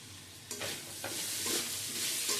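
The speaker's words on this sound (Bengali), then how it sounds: "ম্যারিনেট করে নেওয়া চিকেনটা দিয়েও চিকেনটাও এর সাথে ভেজে নেব" Marinated chicken frying in a pan with capsicum and mushroom, a continuous loud sizzle with a few spatula scrapes and stirring strokes, close up and without talk.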